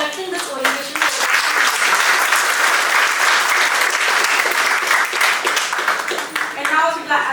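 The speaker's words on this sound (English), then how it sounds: "a big round of applause for Mrs. Garima Upadhyay and Mrs. Akanksha Jaiswal" A sizable audience at an orientation program for a new batch at RO Lucknow gives a loud, sustained round of applause, dense hand clapping filling the room for several seconds with a few swells and dips.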